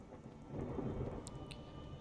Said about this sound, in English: it's raining, but it's not like a cold rain